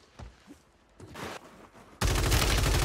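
Gunshots in Warzone 3: a few scattered bursts at first, then a loud sustained fusillade of rapid automatic fire that fills the last second.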